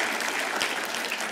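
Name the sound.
audience applause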